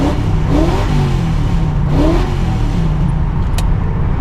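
A rebuilt Camaro engine revs in neutral, rising and falling in two loud, close bursts over a steady deep idle rumble, with no talking.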